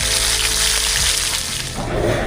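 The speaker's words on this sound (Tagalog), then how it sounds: "Yung ating prito ay malapit na rin pong maluto." Dried milkfish (bangus daing) fries in a pan with a steady, close sizzle and crackle that continues without pause and with no talking.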